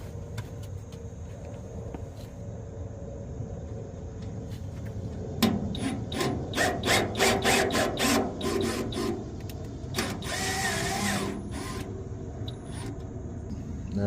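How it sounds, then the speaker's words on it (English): A power drill bores a hole through a steel utility trailer frame, a close, rising whine in pulsing bursts that grinds steadily before stopping. "Take my drill."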